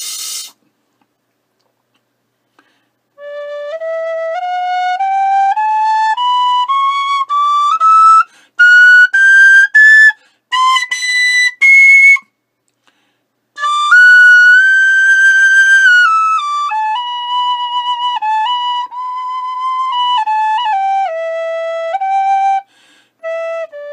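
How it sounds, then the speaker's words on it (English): Tweaked Freeman Generation tin whistle played solo, a clear bright tone running through a sequence of sustained notes and quick runs, rising and falling in pitch with brief breaths between phrases, close and loud. "Now let's see if we can compare with the tweaked whistle."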